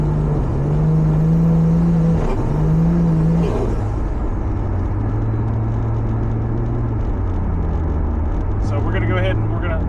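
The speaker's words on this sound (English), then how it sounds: "the car definitely is running a lot better with these coils" A car engine fitted with new ignition coils runs steadily from inside the cabin, a smooth low rumble with brief revving swells early on and a constant whirring drone.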